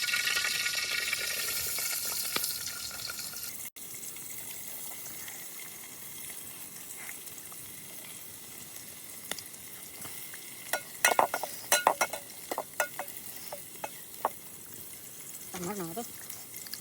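Chopped onion hits hot oil in a pan over an outdoor riverside fire at night, a sharp hiss and sizzle that settles into crackling, with scattered clinks and people talking nearby.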